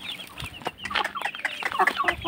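Native white gaok chickens from Madura cluck in a steady, busy stream of short calls, close by and with no talk over them.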